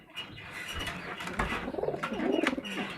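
Pigeons of racer, pouter and king breeds coo at close range on a small hobby farm at Sahapur, with soft, low, throaty calls that build into a rhythmic, bubbling run toward the end and a faint flutter of wings, with no voices.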